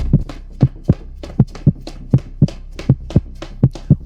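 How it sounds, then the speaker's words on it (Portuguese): A heartbeat sound effect during a tense chase scene: deep, regular low thumps, about four beats every three seconds, each standing out sharply against near silence with no voices. "O som do meu coração batendo mais alto que o da perseguição."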